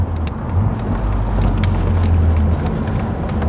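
Six-cylinder car engine heard from inside while driving, a steady low droning hum with wind and road rumble, constant and fairly loud with no voices.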